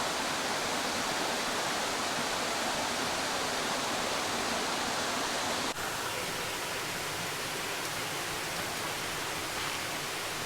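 Charco Prieto waterfall in Puerto Rico pours in a steady, loud, close roar of rushing water that fills the whole clip with dense broadband hiss, with no voices.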